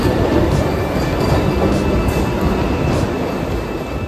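A Vande Bharat Express train pulls in at a station platform with a loud, steady rail rumble and a faint high whine that holds throughout, with no voices.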